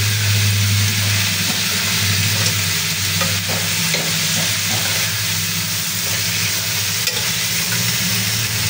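Chicken pieces sizzle loudly in a pan over low heat while being stirred, a constant hiss of frying with occasional scraping and clinks of the utensil near at hand.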